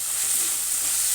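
Spinach frying with green chillies in a hot pan while being stirred, a steady close sizzle with a bright hiss that holds without pause for the whole short moment, no talking.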